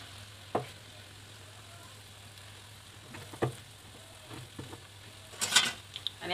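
Gulgule, sweet jaggery fritters, frying as small drops of batter hit hot oil in a kadhai: a soft, steady sizzle with a few sharp pops and light clinks, louder splashy crackle near the end.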